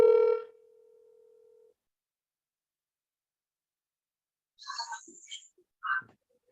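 Steady telephone dial tone while dialing back a caller on a live radio show, loud at first then holding as a thin continuous tone for about a second before cutting out, followed later by brief voices.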